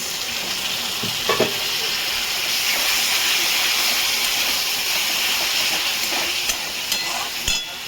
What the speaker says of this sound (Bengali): জিরের গুঁড়ো, সামান্য একটু জল দিলাম।